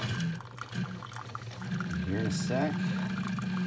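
A drip coffee maker brews into its pot with a steady gurgling, trickling pour that runs the whole time, while a person talks over it close by.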